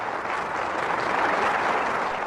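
Applause in archival Soviet film for project leaders Khrushchev and Kaganovich, a thick, continuous crowd clapping at even loudness from start to finish, with no voices above it.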